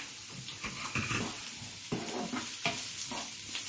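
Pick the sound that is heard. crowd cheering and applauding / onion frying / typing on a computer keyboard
onion frying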